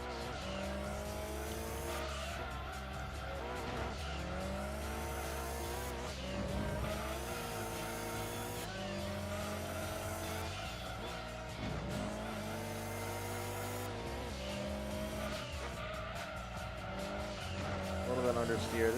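Race car engine whine in the racing video game Gran Turismo 2, shifting through gears with steady high revs and recurring tire squeal through corners, continuous and loud throughout.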